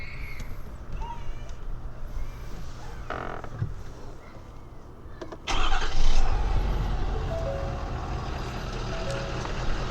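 A 2017 Ford F350 with the 6.7 Powerstroke diesel turns over partway through after quieter background noise, and the engine fires and keeps running with a loud, rough, close rumble.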